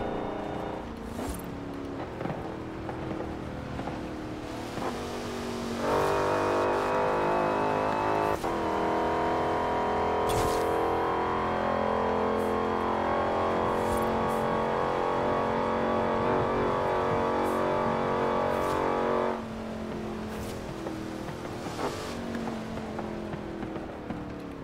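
A car in the racing game Forza Horizon 4 holds about 270 km/h in eighth gear, its engine a steady, loud, high-revving drone that swells for a long stretch and then drops back to a lower hum.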